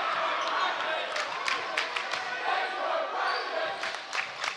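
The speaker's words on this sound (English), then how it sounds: "People are cheering." Basketball fans at a varsity boys championship game cheer in a broad, moderately distant roar, with sharp sneaker squeaks and ball thumps cutting through and a commentator talking over it.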